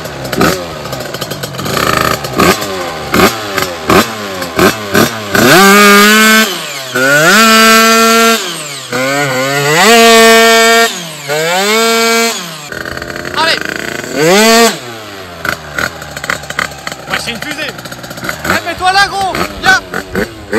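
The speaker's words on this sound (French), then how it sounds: "On va faire un petit burn" Motorcycle engine revving hard during a burnout, with repeated rising and falling high-rpm wails that are loud and close, and voices talking between the revs.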